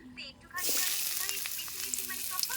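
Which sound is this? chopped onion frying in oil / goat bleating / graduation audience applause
chopped onion frying in oil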